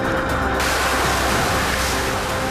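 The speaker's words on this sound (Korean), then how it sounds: "로켓이 발사되면서 축제장은 아수라장이 됐는데요" A Lao festival rocket blasts off as a loud, continuous roaring hiss dominates throughout, broad and noisy with a brighter burst in the opening half-second, no voices clearly standing out.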